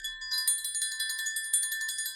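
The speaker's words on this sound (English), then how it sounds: "Hit the bell." A bell sound effect rings out clear and bright, one sustained tone with a rapid repeating shimmer of strikes laid over it, alone with no voices.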